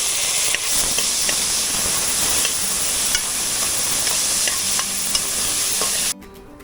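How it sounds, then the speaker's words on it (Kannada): Tomato added to a pot of frying onions for kichidi sizzles and hisses loudly and steadily, with faint scraping taps of a stirring spoon, before the sound cuts off near the end. "ಈಗ ಟೊಮೆಟೊ ಹಾಕ್ತಾ ಇದ್ದೇನೆ."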